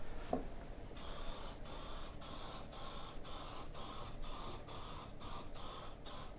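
An aerosol can of PlastiKote woodstove spray paint hisses loudly and close while coating a fire pit, in a long series of short sprays broken by brief regular pauses, with no voices.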